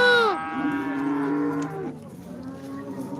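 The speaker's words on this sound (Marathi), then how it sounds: "ताजी वेलेली गाय आहे" A freshly calved cow at a cattle market gives a long, loud moo that bends downward in pitch, followed by a quieter second call, close by with no talk.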